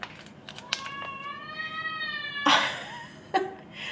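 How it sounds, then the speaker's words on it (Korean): A pet cat meows in a long, drawn-out harmonic call, followed by a couple of shorter meows, close and clear in a quiet home setting with no talking. "근데 너무 야옹거려서 일단 얘 밥을 주고 얘기해야 될 것 같아"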